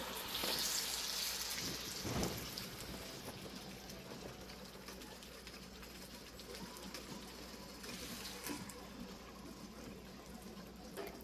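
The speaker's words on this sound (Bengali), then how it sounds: "কোকোনাট মিল্ক দিয়ে আমরা আবার কিছু সময় নাড়বো।" Prawn malai curry simmering in a pan after coconut milk is poured in, giving a steady low sizzle and bubbling with scattered stirring clinks, fairly quiet and continuous throughout.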